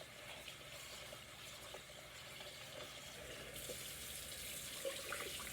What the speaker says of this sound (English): So we're going to rinse it real good.